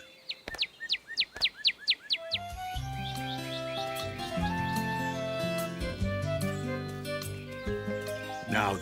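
A person mimics a bird's call with a quick run of sharp whistled chirps, and then a bright, tuneful cartoon-style music bed takes over, steady and fairly loud.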